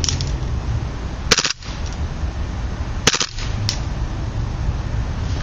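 An HFC USP pistol fired on full auto gives a few short, sharp, close bursts of rapid cracks, standing out over a steady background hiss with pauses between them.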